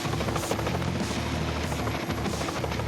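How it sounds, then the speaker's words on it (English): A helicopter hovers close by with a loud, steady rotor roar and thumping blades while lifting building units onto a roof, with no voices heard. "it's much faster for us to use a helicopter to set these units in place."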